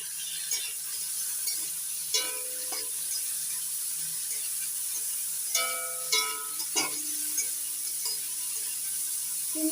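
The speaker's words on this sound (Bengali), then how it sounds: "এখানে দুশো গ্রাম চিংড়ি মাছ আছে ভেজে নিচ্ছি" Two hundred grams of turmeric- and salt-rubbed shrimp frying in hot oil, a steady bright sizzle with occasional clinks and stirring scrapes, close and continuous.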